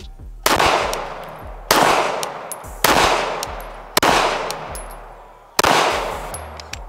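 Five loud, sharp gunshots from an LWRCI IC-9 pistol caliber carbine crack out one at a time at roughly one-second intervals, each followed by a long ringing echo across an outdoor range.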